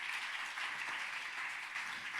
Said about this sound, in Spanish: Vamos a darle un aplauso al Señor en esta tarde.